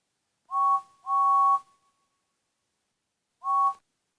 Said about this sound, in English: He was shocked to hear Fred's whistle.